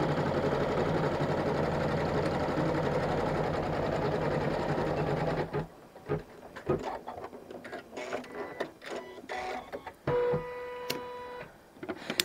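A multi-needle embroidery machine stitching a continuous quilting design, a loud steady mechanical whirr for several seconds that drops into stop-start bursts of motor and ticking, with some tonal whining near the end.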